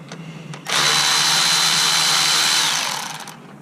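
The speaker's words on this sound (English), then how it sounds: "Electric ratchet." An electric ratchet spins out 10 mm fan bolts on a Mitsubishi Evo 9, a loud, close mechanical whir that runs for about two seconds before winding down.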